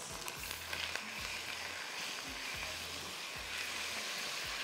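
Minced chicken sizzles in hot olive oil in a pan as it is stirred, with a steady broadband frying hiss and repeated low scraping strokes from the spoon, close and moderately loud with no talking.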